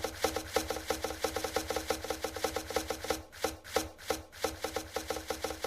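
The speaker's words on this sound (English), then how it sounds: "we got them just chopping all these trees down" Villagers chopping trees in the Towns video game, a steady rapid series of rhythmic wooden chops at moderate volume, briefly broken by a short pause before resuming.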